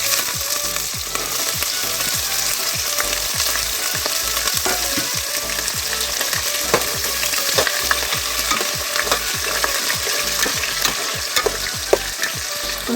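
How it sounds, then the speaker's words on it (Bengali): Onions and spring onion stalks fry in a pan, giving a steady, loud sizzle broken by frequent scraping stirs and small clatters throughout, with no voices. "আমার পেঁয়াজ কলি আর আমার পেঁয়াজটা ভাজা ভাজা হয়ে গেছে।"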